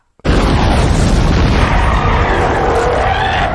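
Explosive gunfire blasting apart creatures in a film scene: one loud, dense roar of blasts and booms that starts suddenly and holds steady for several seconds, close and overwhelming, with no voices.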